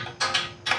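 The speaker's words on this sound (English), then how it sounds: "I'm gonna grab a couple wrenches and tighten down the main nut that holds the bracket to the bumper" Wrenches tighten a nut on a Jeep Gladiator bumper light bracket, giving two short close metallic ratcheting scrapes in quick succession, with no talk.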